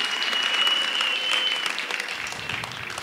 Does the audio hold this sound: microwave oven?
no